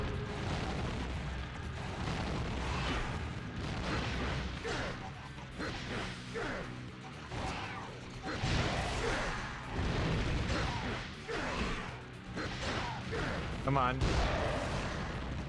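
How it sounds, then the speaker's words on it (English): Weapons firing in the PS2 game Spawn: Armageddon, heavy booming blasts and crashes running continuously at steady loudness, with a player briefly talking over the gunfire. "Fire weapons with square and press and hold to the automatic firing."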